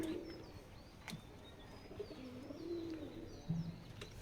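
Wild pigeons cooing in a cage, soft low coos repeating every second or so at a moderate distance, with faint chirps and light rustling in the background.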